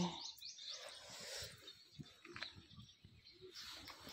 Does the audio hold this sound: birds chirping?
yes